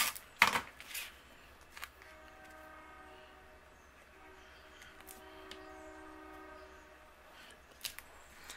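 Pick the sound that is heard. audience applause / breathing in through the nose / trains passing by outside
trains passing by outside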